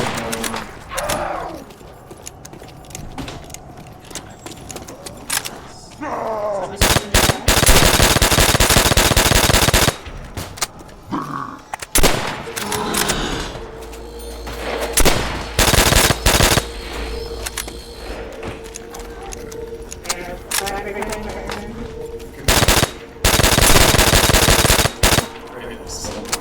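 Rapid automatic gunfire from Call of Duty: World at War Nazi Zombies, loud repeated bursts of machine-gun fire broken by pauses, with players talking over the action in between.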